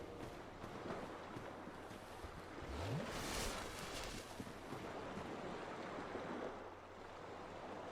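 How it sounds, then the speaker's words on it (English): Flowing water in the Darkroot Garden area of the Dark Souls video game, a steady wash of rushing, surf-like noise with a faint low tone rising briefly, no talking. "Sound of the water."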